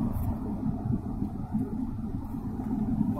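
A car cruising on the NH-8 Delhi-Jaipur highway gives a steady, dense low rumble of engine and road noise from inside the cabin, continuous throughout with no breaks.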